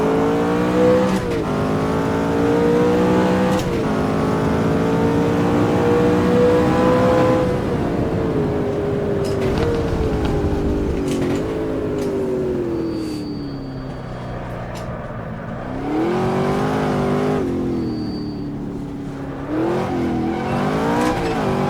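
McLaren F1 race car engine in the Automobilista racing game, revving hard and steadily through upshifts with rising and falling pitch, loud and continuous with no talk.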